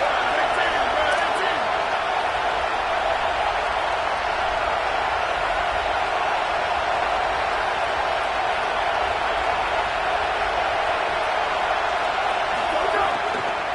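Steady, roaring home crowd in the College Football 27 video game, a loud continuous wash of stadium noise on a third-down defensive stand, with commentary voices over it.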